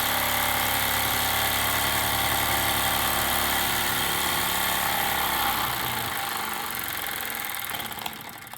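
A Wilesco D455 model steam engine runs at full throttle with a loud, steady, fast mechanical chugging hum that holds nearly constant, then eases slightly toward the end.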